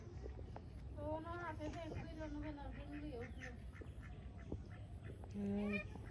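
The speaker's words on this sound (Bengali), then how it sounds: "দেশি হাঁস" Ducks quack repeatedly amid a busy farmyard, with a voice talking over them and a louder honking call near the end.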